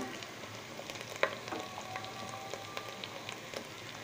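Spices and turmeric frying in a pan for a chicken and taro curry, a faint, steady crackling sizzle with scattered small pops and a light clink of a utensil.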